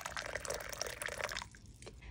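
Hot water pours into a cup holding fingerroot and honey, a faint, close liquid trickle with light splashy spatters that thins out and nearly stops after about a second and a half.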